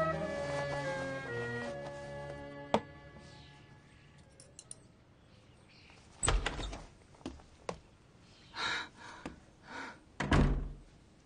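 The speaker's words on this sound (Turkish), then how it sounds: "Şu kapıyı vurmayı bir türlü öğrenemedin Gülbiye." A door opens with a thunk inside a crowded home where a gathering is going on, several louder knocks and bumps following after a stretch of soft background music.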